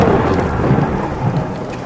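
Heavy rain pouring steadily with deep rumbling thunder underneath, a dense, loud, continuous storm texture used as a horror story sound effect, with no voices.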